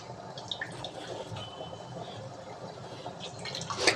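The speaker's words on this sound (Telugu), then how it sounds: "కూల్ వాటర్లో వేసుకొని ఈ విధంగా పిండేసుకుంటే వాటర్ అన్నది" Water drips and trickles faintly as soaked meal maker (soya chunks) is squeezed by hand after sitting in cool water; the sound is soft and close in a quiet kitchen, with no talking.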